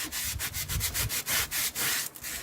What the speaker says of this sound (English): just take some sandpaper or a sanding block and buff that thing